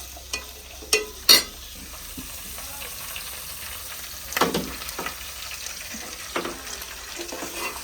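Green chillies and onions fry in a little oil under a soft, steady sizzle, punctuated by sharp clanks of a utensil against the pan and scraping stirs.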